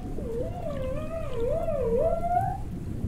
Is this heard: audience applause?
no